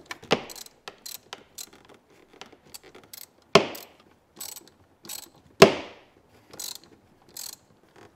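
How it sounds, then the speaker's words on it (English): A socket wrench ratchets while bolts are tightened on a car heater install, giving short bursts of rapid metallic clicks with brief pauses between strokes, close and fairly loud, with no talking. "so now I'll finish it off with my socket wrench"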